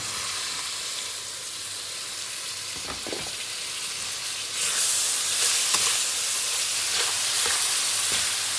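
Chopped tomatoes drop into frying chicken handi masala in a hot pan, setting off a steady hiss and sizzle that swells louder partway through, with a few soft stirring knocks and no talk.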